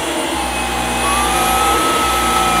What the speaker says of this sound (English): when you're using it, I'm pushing down like this, and you can see I'm not pushing forward